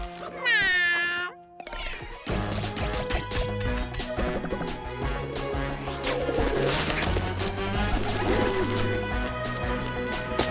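A cartoon cat gives a quick rising-and-falling meow, then music and busy animated sound effects take over and play loudly and continuously.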